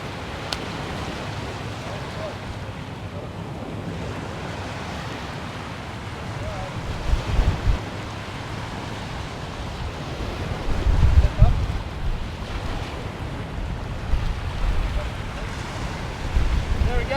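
Ocean surf rolls and breaks on a Western Australian beach while camels are led toward the water, a continuous rushing wash buffeted by heavy wind noise, with louder surges swelling now and then.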